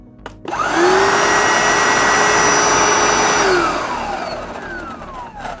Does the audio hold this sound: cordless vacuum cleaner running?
yes